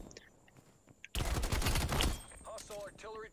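Gunfire from the Call of Duty Cold War game: a loud, dense burst of rapid shots with heavy recoil that lasts about a second, then fades as a voice speaks briefly.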